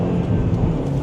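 A car overtakes on a UK road, heard from inside a moving car as a steady, close engine and road rumble that swells slightly over one brief second.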